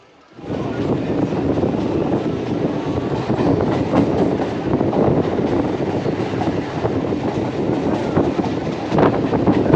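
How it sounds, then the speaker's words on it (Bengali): A local train running from Ranaghat to Shantipur heard from on board, a loud continuous rumble with rhythmic clicks of wheels over rail joints starting abruptly and holding steady. "তো আমাদের ট্রেন আমাদের ছেড়ে দিল"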